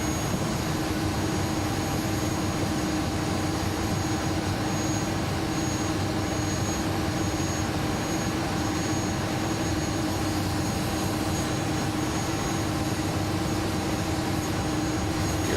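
Airbus A300-600F jet engines spool up with brakes held on the runway in a flight simulator game, a loud, dense, continuous roar with a steady whine on top, unbroken for the whole stretch.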